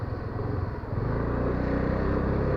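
An automatic scooter's engine drones loud and steady while being ridden, a low continuous rumble that rises slightly as throttle is given, with wind noise and no talking.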